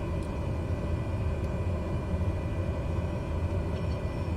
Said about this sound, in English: So taxiing on down